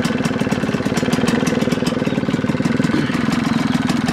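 A 2000 KTM 125 EXC dirt bike engine idles nearby with a fast, even, pulsing putter that holds steady throughout, with no talking.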